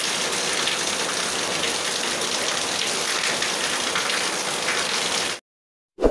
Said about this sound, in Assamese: এই চাওঁ এয়া বৰষুণ